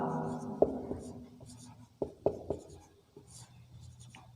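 Chalk or marker writing on a classroom board during a Sanskrit grammar lesson, faint scratchy strokes and a few sharp taps beneath a quiet teacher's voice.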